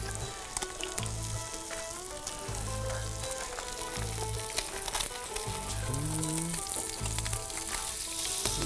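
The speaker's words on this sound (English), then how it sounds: "Pop those fillets in skin side down." Sea bass fillets laid skin side down in a hot pan, crackling and sizzling densely and steadily up close, with faint clatter of kitchen activity and no speech.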